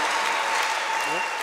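A church congregation breaks into steady, dense applause for Jesus, a loud wash of clapping that fills the short moment without pause, with faint voices mixed in.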